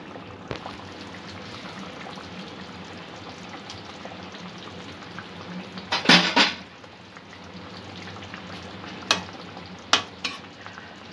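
Rohu fish malai curry gravy bubbling in a pan, a steady low simmer with a few louder clattering stirs and splashes partway through, no voices.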